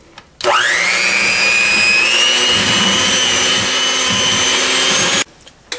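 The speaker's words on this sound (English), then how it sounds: "beat it together on high for 3 to 4 minutes and it'll form into a dough" An electric mixer on high beats cranberry orange shortbread dough, starting abruptly with a rising whine and then holding a loud, steady motor drone for about five seconds before cutting off.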